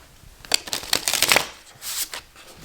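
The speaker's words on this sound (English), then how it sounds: "Let me shuffle these first." Tarot cards being shuffled by hand in a quick run of crisp riffling flicks followed by a softer bridge, close up and alone.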